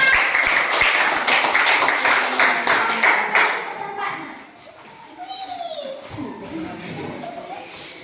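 A class of schoolchildren claps for their classmates in group 2, a loud burst of rhythmic, close applause that fades after a few seconds into children's chatter and voices.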